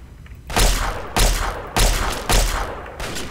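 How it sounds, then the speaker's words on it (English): Gunfire from an enemy shooting in Fallout 3, four loud, booming shots spaced roughly evenly about half a second to a second apart, each with a ringing tail. "Oh my goodness, he's shooting at me."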